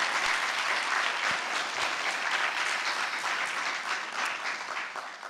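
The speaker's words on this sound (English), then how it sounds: "Let's give those beautiful poets another round of applause." Sustained audience applause fills an evening fireside chat event after a poetry performance, a dense, steady wash of many hands clapping that fades slightly toward the end.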